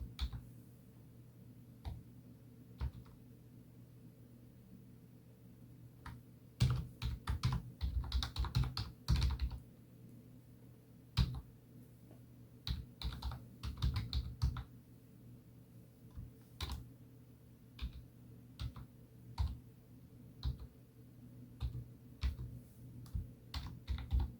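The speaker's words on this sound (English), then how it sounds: "Now you type in the following command." Typing on a computer keyboard while entering a command during a Windows 11 25H2 offline install: close, crisp key clicks in irregular bursts with pauses between, steady low hum underneath, no voices.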